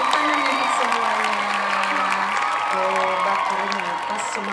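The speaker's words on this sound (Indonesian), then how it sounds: "terima kasih tepuk tangan untuk semuanya" Schoolchildren in a first-grade classroom clap and cheer together in a dense, steady burst that lasts the whole stretch, with excited young voices shouting and chattering through it.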